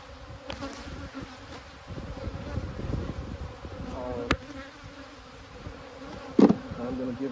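Honey bees buzzing around an abandoned hive, a steady close drone with individual bees flying past the listener, and a few sharp clicks and knocks from handling the hive.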